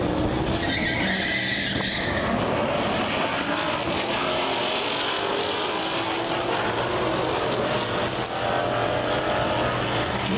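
A sixth-generation Camaro and a current-generation Mustang launching in a drag race, tires skidding and engines roaring. It is a loud, sustained, raspy wash of screeching rubber and engine noise, heard from nearby and steady for about ten seconds.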